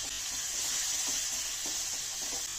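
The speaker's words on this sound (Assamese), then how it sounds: "এইটো পিঁয়াজৰ লগত কেঁচা জলকীয়াৰ লগত অলপ ভাজি পেলাওঁ আৰু তেলটো ওলাব ধুনীয়াকৈ" Onion and green chilies frying in oil for a jackfruit seed and taro curry, a close, steady hissing sizzle with faint soft stirring taps underneath, continuous throughout and without talk.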